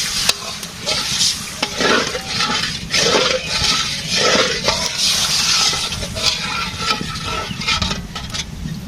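Curry in a pan sizzles loudly and steadily after frying down its spices, with broth going in and a spoon stirring and scraping through the bubbling mixture in a village kitchen.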